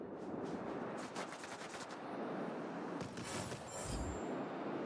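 Machine gun fire from a Gloster Javelin fighter in the World of Warplanes air combat game, heard as rapid bursts over a constant engine roar.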